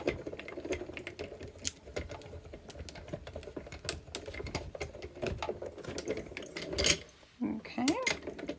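A die-cutting machine feeds paper and a cut die through its rollers during Valentine's card making, giving a steady mechanical clatter and whir of moderate loudness with sharp taps throughout and a brief pause near the end.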